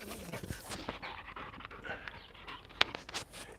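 Dog panting after chasing a frisbee during a morning workout, quick close breathy pants in a steady rhythm with one brief sharp squeak.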